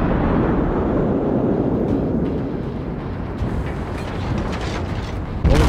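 Heavy warship gunfire and explosions in the World of Warships naval battle game, a continuous loud rumbling boom texture that swells and rolls for several seconds before a sharp new burst at the end.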